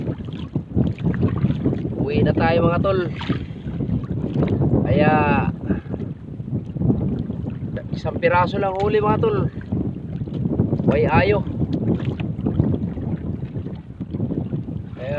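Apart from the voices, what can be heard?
strong wind on a fishing boat at sea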